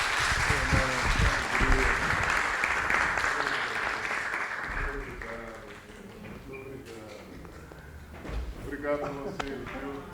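Audience applause after a conversation at a university music festival, a dense burst of clapping that thins out while people talk over it, swelling briefly again near the end.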